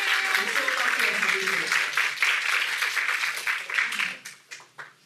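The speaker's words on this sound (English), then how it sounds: "please give them a very warm applause" An audience applauding as panelists come on stage at a leadership event, a dense burst of clapping mixed with voices that thins into a few final claps.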